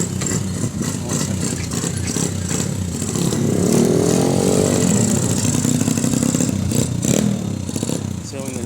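Motorcycle engines rumble and rev nearby as bikes roll in, with voices talking over the steady engine noise.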